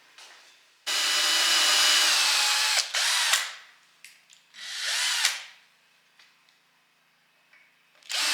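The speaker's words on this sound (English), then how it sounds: "Screw at an angle in there" A power drill drives screws at an angle into the wooden frame of a kitchen cart. There are two close, loud whirring bursts with a slowing pitch as each screw seats, plus small clicks and knocks between them.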